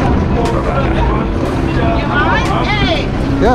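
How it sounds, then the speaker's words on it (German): A motorboat engine rumbles loudly and close as it pulls up to a pier in Bangkok, under busy chatter from people nearby. "jetzt kommt unser Boot hier angefahren"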